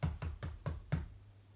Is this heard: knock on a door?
yes